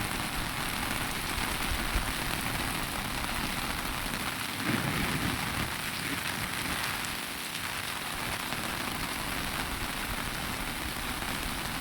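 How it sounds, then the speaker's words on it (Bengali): Heavy rain pours steadily onto a rooftop, a dense, unbroken hiss and patter heard from beneath an umbrella, loud and constant with no voices. "এখন কত সুন্দর ঝমঝমে বৃষ্টি পড়ছে।"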